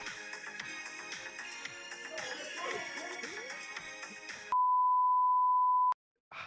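Music plays, then cuts to a single sustained electronic phone notification beep that holds steady for over a second before stopping abruptly, with a short burst of sound after it.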